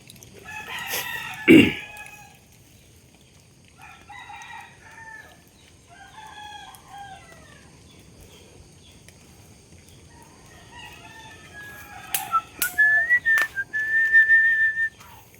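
A rooster crows several times at moderate distance, its calls drawn out and strained, with a sharp knock early on and a thin whistle-like tone near the end.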